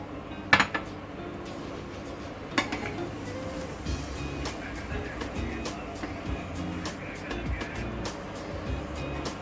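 Plum chutney with vinegar and sugar is stirred in a pot: a spoon scrapes and clinks against the metal with a few sharp knocks early on, then a steady bubbling simmer.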